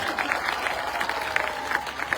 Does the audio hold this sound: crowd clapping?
yes